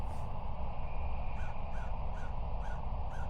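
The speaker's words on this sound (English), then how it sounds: "And you hear the crows in there as well." Crows cawing in the video game Norco, a series of five evenly spaced caws over a steady low ambient drone, mid-distance and moderately clear.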